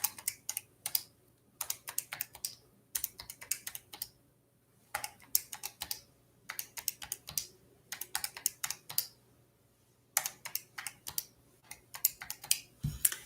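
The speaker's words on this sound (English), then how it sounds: "Okay, so I typed all my data in." Data is keyed into a graphing calculator in short bursts of rapid, crisp button clicks separated by brief pauses, close and fairly quiet.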